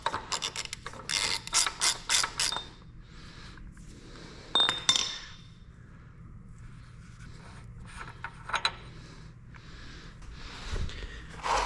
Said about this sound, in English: Now we can spin our hub nut off.